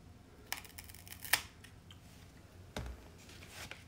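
A Rhaphidophora tetrasperma stem is cut with a few quiet, crisp snips and clicks spread over a few seconds, close by, with low room noise between them.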